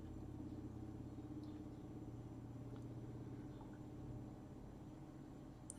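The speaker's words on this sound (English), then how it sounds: "It's a very strange sounding vehicle." A strange-sounding vehicle passes outside, a low steady rumble that stays faint and distant throughout with no voices over it.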